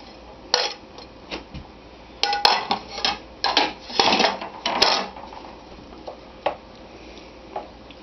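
Chopped andouille sausage pieces, cut into bite-sized quarters, dropped into a metal pot in several irregular clattering bursts, close and fairly loud, with no talk.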